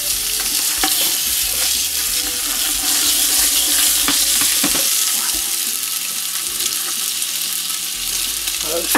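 Lamb for couscous royal sizzles and fries loudly in a hot pan, with a steady crackling hiss and a few stirring or clattering knocks close by.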